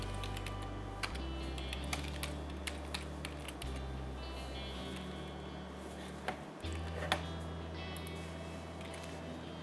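Keystrokes on a computer keyboard while entering a standard deviation function in Excel, a steady run of light clicks over a constant low hum, fairly faint and close.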